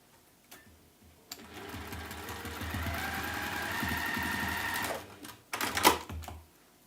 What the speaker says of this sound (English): sew both those end pieces on